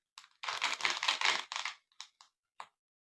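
Mustard seeds popping in hot oil while tempering spices for Gujarati dhokla, heard as a dense burst of crackling and spitting that fades into a few scattered pops, close and fairly loud with no talking.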